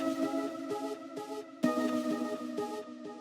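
A future house synth pluck processed with RC20, delay and saturation, its harmonic notes repeating in a steady pattern with smeared tails, sounding close, full and continuous throughout.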